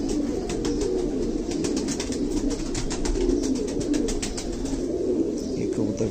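A pigeon coos steadily close by, soft repeated throaty calls over a constant background hum, with no voices.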